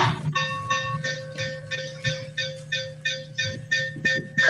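A model railroad steam locomotive chuffs in a steady, regular rhythm of about a dozen puffs, with a sustained bell-like tone running underneath, close and moderately loud with no talk.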